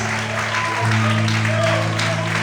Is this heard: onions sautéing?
no